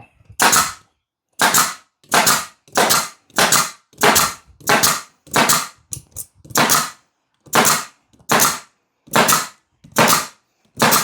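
A staple gun fires into the seat upholstery of a Club Car DS golf cart, about thirteen loud, sharp snaps in quick uneven succession, close and alone.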